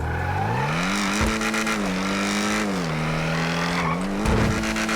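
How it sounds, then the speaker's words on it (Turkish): A racing sports car engine in GTA 5 drones and revs steadily, shifting pitch as it accelerates, with occasional tire squeal and exhaust crackle. "Motorun sesi ve egzozlara bak şimdi bak"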